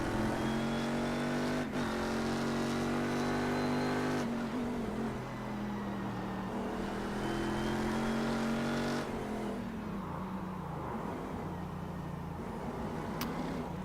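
Race car engine in the iRacing sim game, a loud steady harmonic drone that shifts pitch through gear changes and lifts, running continuously throughout with brief dips as the throttle backs off.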